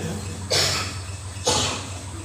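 Two short, sharp coughs about a second apart, fairly close, with a quiet background between them.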